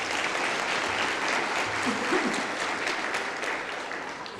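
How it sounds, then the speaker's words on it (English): A graduation ceremony audience fills a large hall with sustained applause, dense continuous clapping from many people, steady and loud before gradually easing slightly toward the end. "give them a round of applause,"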